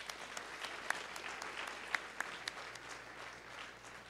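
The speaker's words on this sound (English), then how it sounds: "Let's clap hands for him." A church congregation claps for a pastor, a moderately loud, sustained round of hand-clapping with a few sharper individual claps standing out, lasting about four seconds.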